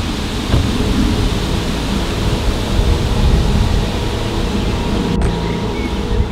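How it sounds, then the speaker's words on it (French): Steady wind rushes through a forest, a loud, continuous broadband roar with no breaks, heard alone without talk. "Je sais pas si on entend très bien le vent."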